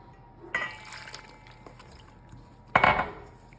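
A spoon stirs a batter of sugar, flour and whole milk in a bowl for a peach cobbler, giving two distinct clattering scrapes against the bowl with quiet pauses between them.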